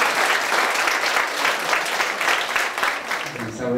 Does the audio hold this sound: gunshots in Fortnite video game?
no